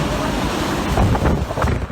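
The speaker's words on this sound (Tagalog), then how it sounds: "ang isang buhawi at mga nagliliparang debris" Tornado winds sweeping through Liloan, Cebu, with flying debris, heard as a dense, continuous roar of wind that surges slightly in the middle, with a voice faintly mixed in.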